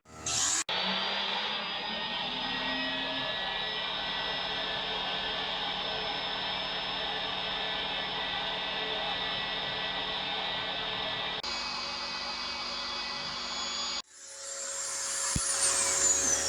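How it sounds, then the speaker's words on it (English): Steady loud whirring from a vacuum cleaner and electric drill running together on a 6000-watt inverter, continuous, then cutting to a different motor hum and a harsh high whine. "Vacuum and the drill, everything else is still running."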